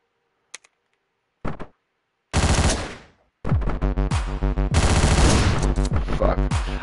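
Gunfire in the top-down action game Hotline Miami: a few sharp clicks, then loud, rapid bursts of shots that grow into near-continuous automatic fire, with no voices.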